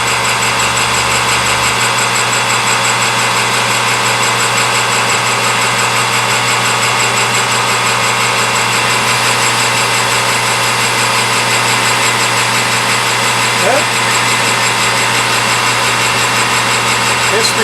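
A metal lathe in a home shop machines a part with a steady, loud, continuous hum and whine of motor and cutting that runs throughout, with no pauses.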